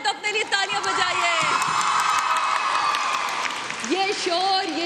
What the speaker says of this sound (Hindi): अगर आप लोग ना होते तो अपने लिए तालियां बजाइए।